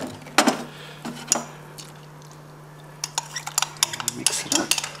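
Dye powder stirred into boiling water in a jug, a spoon clinking and scraping against the sides in irregular bursts, close and moderately loud over a steady low hum.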